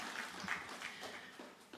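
Brief, fairly faint applause from an audience at a university event, steady patter of hand claps with no voices over it.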